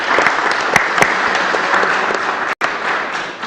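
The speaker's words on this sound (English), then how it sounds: "So just another round of applause for you." A commission meeting audience breaks into sustained applause, a loud steady wash of many hands clapping with occasional sharper individual claps, briefly cut off near the end before resuming.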